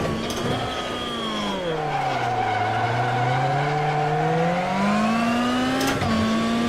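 Tires spinning and squealing in the Automobilista rally racing game, a continuous loud screech that bends in pitch over a steady engine drone, with no one talking.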